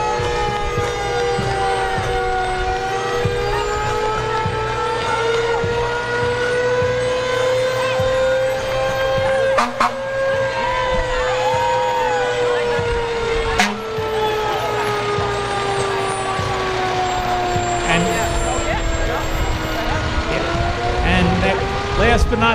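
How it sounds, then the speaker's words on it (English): Fire engine of the Greenwood Lake Fire Department rolls past during a St. Patrick's parade, a loud continuous engine rumble with a wavering siren-like tone and a couple of sharp clanks, while an announcer talks over it. "Here is Engine 619 of the Greenwood Lake Fire Department."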